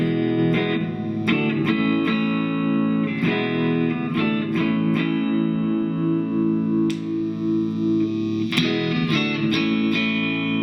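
A distorted electric guitar, a Chibson Les Paul copy on its neck pickup, has a warm, rounded tone and strums and picks chords in sharp bursts, sustained and loud, with no voices.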